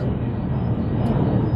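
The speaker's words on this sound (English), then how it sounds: "Sorry for the plain noise, it's one of the side effects of living under the flight path." A jet airplane passing overhead beneath a flight path, a steady low rumbling roar that fills the whole stretch with no talking.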